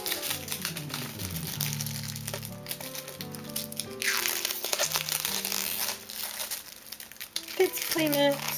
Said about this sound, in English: this is more of a cling film than plastic